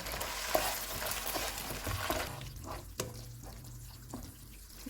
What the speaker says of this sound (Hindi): इसमें गार्लिक चिली सॉस डालेंगे, टमाटो पेस्ट, इनको 2 मिनट तक भून लेंगे।